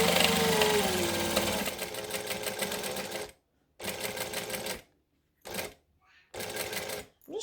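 A sewing machine stitches slowly over a zip on a clutch bag, running in several bursts separated by short silent pauses as it works through the thick seam. A voice may be faintly present early on.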